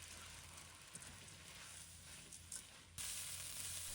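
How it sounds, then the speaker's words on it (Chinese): Rice with diced carrot, corn and peas sizzles steadily in a hot pan during quick stir-frying, a continuous crackling hiss that jumps louder and brighter partway through. "加入胡萝卜丁、玉米、豌豆，还有刚刚清洗浸泡好的大米，快速翻炒"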